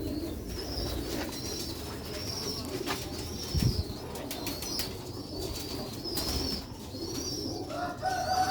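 Pigeons of a rare pure Sialkot breed coo in soft repeated throaty phrases, close and moderately loud, with faint chirps and background rustle.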